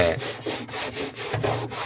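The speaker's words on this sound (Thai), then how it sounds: "ขัด ทาขัดแล้วก็ขัดกระดาษทรายแต่งแล้วก็พ่นสีใหม่ครับ" Sandpaper rubbed by hand over a repaired leak patch on the freezer compartment of a Toshiba GR-B145ZPS refrigerator, steady back-and-forth scraping strokes about four per second, close and loud, with no talk.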